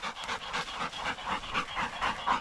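Coonhounds on a hot summer night of about 85 degrees pant heavily during a coon hunt, a close, rhythmic stream of quick breathy gasps with no barking or talk.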